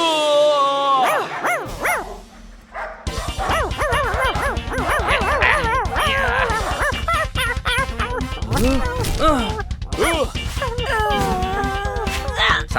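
A cartoon dog with more than one head barks and yips in a Hindi children's animated adventure set at a castle, loud, repeated, and layered with music and voices.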